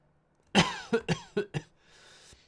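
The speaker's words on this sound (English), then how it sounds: "Making me cough." A burst of five quick coughs from one person, close and moderately loud, the first strongest, followed by a faint breath afterward, during a live watch-along of the Germany vs Scotland Euro 2024 football match.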